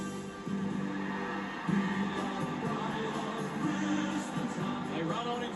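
Stadium crowd noise from the AFL Evolution 2 football video game, as Gold Coast and Brisbane take the field for an exhibition match. A broad, steady roar with swelling cheers runs throughout, distant and continuous, with no talk.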